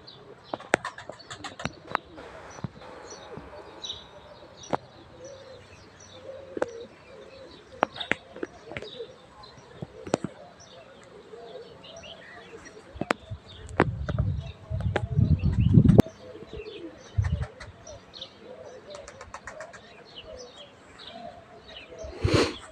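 Pigeons just released from their loft coo and chirp at a moderate distance amid scattered clicks and rustling, with louder low fluttering bursts partway through and faint voices nearby.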